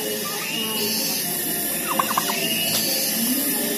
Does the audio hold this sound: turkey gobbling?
yes